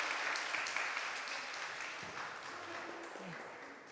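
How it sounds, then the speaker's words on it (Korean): Conference attendees applaud a session chair's introduction, a faint, steady wash of clapping from a hall audience that slowly fades. "큰 박수 부탁드리겠습니다."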